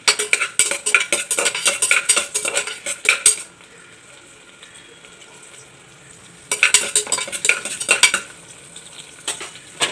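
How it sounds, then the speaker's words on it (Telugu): Chopped garlic, ginger and green chilies sizzling in hot oil, with bursts of a metal spoon clattering and stirring against the pan, a quieter stretch of steady frying in the middle, then more scraping and stirring. "ఆయిల్ వేడెక్కినాక చిన్నగా కట్ చేసుకున్న వెల్లుల్లిపాయలు అల్లం ముక్కలు పచ్చిమిరపకాయలు వేసి కాస్త వేగనివ్వాలండి"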